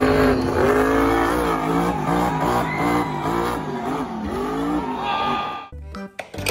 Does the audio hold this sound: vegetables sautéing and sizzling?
no